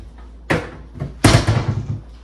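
A kitchen cabinet door knocks twice against the side of a refrigerator, the second bump louder and rattling briefly, in a quiet room.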